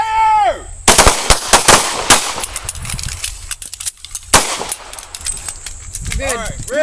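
Pistol gunshots crack at an outdoor shooting range during a basic self-defense pistol class, a rapid irregular series of loud, sharp reports fired by several shooters, with a shouted voice at the start and end.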